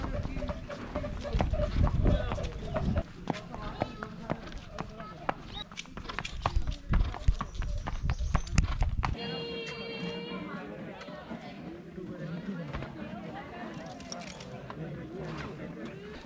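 A horse carries a rider on a ride at Mount Abu, its hooves clip-clopping in uneven knocks for the first half amid loud voices and chatter, followed by quieter background sound with a voice.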